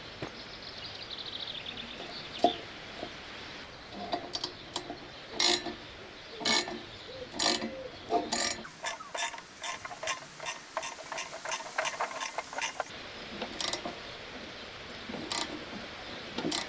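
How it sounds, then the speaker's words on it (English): Harmonic puller working a stuck pulley off the shaft of a 52-year-old rusty brush mower, giving repeated sharp metallic clicks and ratcheting taps, dense in the middle and sparser at the ends, close and moderately loud. "The harmonic puller is working really well"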